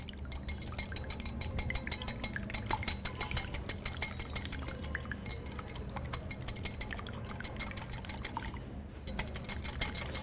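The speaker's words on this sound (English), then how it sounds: "And now whisk the two together." A whisk beats egg and a little milk together into an egg wash, fast, steady metallic ticking against a bowl that runs close and continuous throughout, with no talking.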